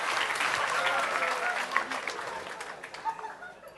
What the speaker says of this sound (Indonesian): Oke, tepuk tangan Mas Santo.